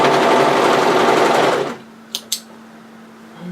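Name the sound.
overlocker serging the edges of a woven kimono robe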